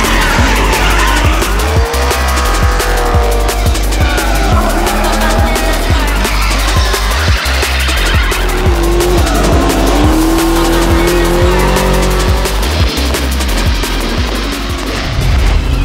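Drift cars skid through a 12-hour Drift Matsuri event in a continuous loud roar of revving engines and long, wavering tire squeals that overlap and rise and fall without pause.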